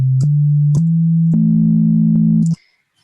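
A smooth analog synth sine wave plays as a few held notes stepping up in pitch. The pure, steady tones are separated by brief clicks and cut off cleanly at the end.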